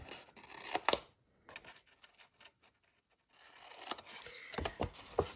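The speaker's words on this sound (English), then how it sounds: "So let me turn it this way and I'll cut it this way. So we're going to cut this square off." Scissors snip through material to cut a square away, giving a few sharp, close cuts at the start and end with quieter rustling and handling in between.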